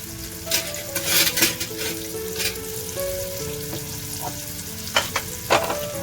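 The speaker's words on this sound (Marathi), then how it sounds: "तर आता मी सुरमई फ्राय करायला ठेवलेली आहे" Surmai (kingfish) pieces fry in a pan over a medium flame, giving a steady close sizzle broken by bursts of spattering and light clinks of utensil against pan.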